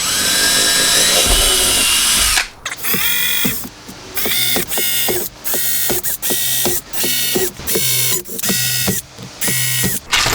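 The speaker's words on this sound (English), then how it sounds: "And then what we're gonna do is we're gonna pre-drill all our holes." A power drill pre-drills screw holes in a van roof for a Max Air roof fan, running in repeated short bursts with brief pauses between them, up close and loud with no talking.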